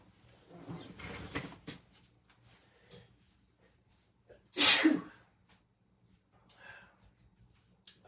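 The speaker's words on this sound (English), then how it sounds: "there's no doubt you're going to sneeze" A single loud sneeze bursts out close by, sharp and breathy, amid quiet room noise, soft rustling and brief vocal sounds during a sports card group break.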